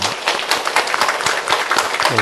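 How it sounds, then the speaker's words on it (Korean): A church congregation at a Sunday service claps to welcome their pastor, with dense, continuous applause filling the room and scattered voices heard through it. "우리 목사님 인사드릴 때 우리 박수로 환영해 주시겠습니다"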